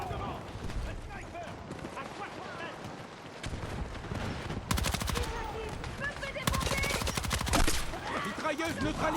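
Battlefield 6 gameplay with bursts of automatic gunfire, rapid rattling volleys that grow louder and denser toward the end, layered over the game's background sound.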